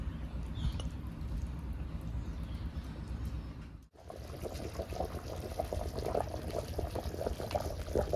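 Tamarind fish curry made with merugu fish bubbles in a pot in a village setting, a steady low simmering burble with soft pops, close and continuous throughout.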